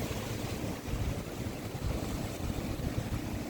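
A fishing boat returning from open water toward a dock at Sarnia, Ontario, heard as a steady low rumble mixed with wind buffeting the microphone and lapping water, continuous and fairly loud, with no voices.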